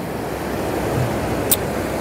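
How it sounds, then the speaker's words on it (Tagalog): Steady ocean surf rolls in at Tondaligan beach in Dagupan on a calm morning, a continuous near wash of waves with some wind rumble and no talking. "Dito na ako sa mismong tabing dagat."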